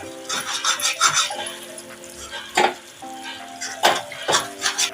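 Fish curry of mushi fish is stirred in a pan, sizzling under repeated close scrapes and clinks of a spoon against metal, with a steady faint tonal hum beneath.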